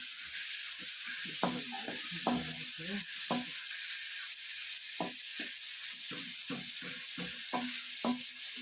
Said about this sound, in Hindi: हम इसकी तब तक बुनाई करेंगे जब तक ये गोल्डन ना हो जाए।